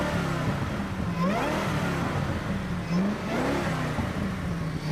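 A supercharged 5.4-liter V8 in a 2005 Ford GT tuned to 650 horsepower revs up twice, its pitch sweeping upward in two rising pulls over a steady engine roar.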